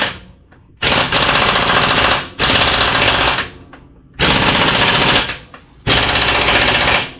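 Bursts from a pneumatic air impact tool working on the brakes of a 1969 wagon rattle in four loud, sustained hammering runs of about a second and a half each, separated by brief pauses, close by.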